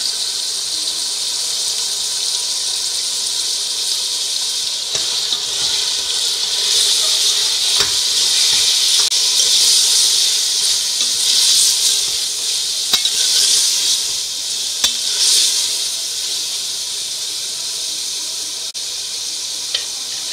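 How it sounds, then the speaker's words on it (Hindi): Mutton sizzles and hisses steadily in a hot karahi, a continuous crackling fry with occasional louder spits. "दो मिनट तक मटन को इसमें भूनने के बाद"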